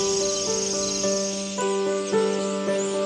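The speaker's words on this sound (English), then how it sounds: "I heard the song of birds and the loud buzzing of insects" Loud, continuous insect buzzing and chirring, with steady droning tones and small pulses, close to the recorder and with no voices.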